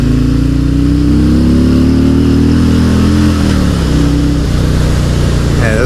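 A 2018 Harley-Davidson Road King Special motorcycle engine revs up loudly and continuously under throttle, its deep V-twin rumble rising steadily in pitch as the rider accelerates, with wind noise throughout.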